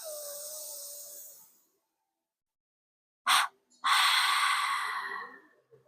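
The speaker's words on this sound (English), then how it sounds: "it's a big inhalation through the nose and two soft and long exhalations through the mouth with the sound" Moksha Kriya breathing: a deep, airy inhale through the nose, then after a pause two long, soft breathy exhalations through the mouth, the second longer and fading out, close-miked with no talk.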